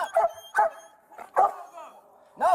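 A police K9 at an arrest lets out five loud, close barks in an irregular rhythm, sharp and punchy with short pauses between them, with a voice faintly present.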